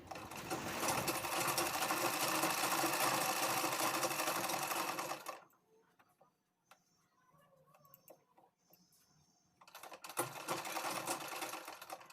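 A sewing machine runs steadily, stitching along the neckline of a blouse, then stops for a few seconds of near silence before starting again; the needle's rapid ticking clatter is close and continuous.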